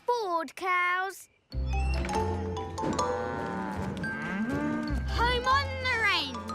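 Animated cartoon cows being herded off a boat in a Thomas & Friends episode give long, deep moos over background music, after a brief bit of talking at the start.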